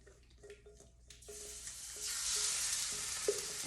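Korean seafood pancake batter with chicken and shrimp sizzles in a hot pan. A few light utensil clicks come first, then the frying swells into a loud, steady hiss that continues to the end, with no talk.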